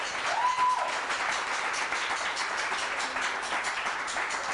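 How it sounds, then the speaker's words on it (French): A crowd claps steadily in a dense, even patter of applause, with a faint whistle near the start. "Applaudissez pour eux."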